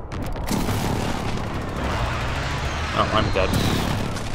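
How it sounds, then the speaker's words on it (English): Several booming explosions from an enemy precision airstrike in Call of Duty: Modern Warfare, a 2019 Headquarters multiplayer match, rumble continuously amid gunfire and game noise while a player talks over them. "Enemy precision airstrike, take cover."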